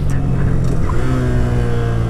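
A 2015 Honda Grom motorcycle engine revs and drops pitch through a downshift, a steady close droning roar with falling engine tones, heard alone without talk.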